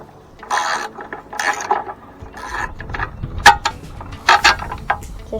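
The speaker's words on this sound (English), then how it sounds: "1/2 inch socket and take out this bolt." A ratchet fitted with a 1/2 inch socket works a bolt loose on a Briggs & Stratton lawnmower engine, giving quick bursts of clicking pawl strokes and metallic knocks, close and fairly loud, with no speech.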